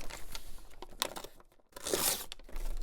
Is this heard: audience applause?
no